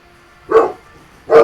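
A dog barks in the background of a Gwent: The Witcher card game session, two sharp, loud barks spaced under a second apart with nothing else heard.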